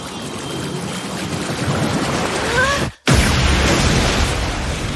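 A swelling rush of water effects with a rising whistle surges for a water magic spell in the anime Jobless Reincarnation, then cuts out briefly before a heavy, booming splash crashes back in.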